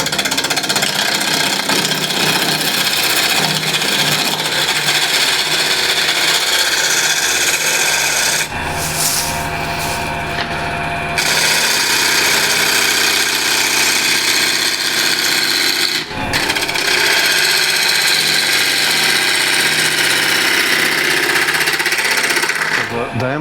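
A large apple-wood tray spins on a wood lathe while a tool cuts it, making a loud, close, steady grinding rasp with heavy low rumble, briefly shifting in tone twice, under occasional talk.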